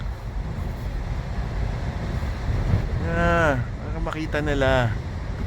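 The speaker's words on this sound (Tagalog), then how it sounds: "Nararamdaman ko yung sasakyan gumagalaw, umuuga sa lakas ng hangin." Strong wind buffets a parked car on a windy day in Wellington, a constant loud rushing roar with a person talking over it partway through.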